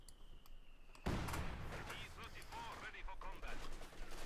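MG34 machine gun in Company of Heroes 2, rattling bursts of battlefield gunfire that break in sharply after a quiet moment and then keep going, with a commentator talking over them.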